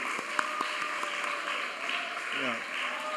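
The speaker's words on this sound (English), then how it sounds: "Can you give a round of applause to him?" An audience at an alumni association lecture event applauds in a steady, moderately loud patter of clapping, with a voice speaking over it.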